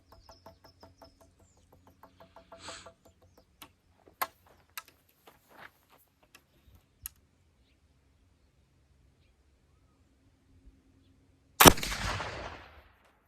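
A single loud, sharp black powder gunshot using homemade Osage orange powder cracks late in the clip with a trailing rumble, preceded by long near-silence and faint scattered ticks.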